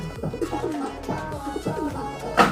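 Taiwan pigeons with very dark plumage coo close by in a few soft, throaty rolling phrases, with a sharper call near the end and no talk over them.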